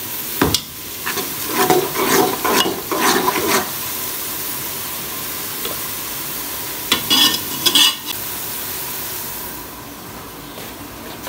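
Washed chicken frying in a large pot of hot oil for a big batch of haleem, with a steady loud sizzle and bursts of stirring and scraping near the start and again midway.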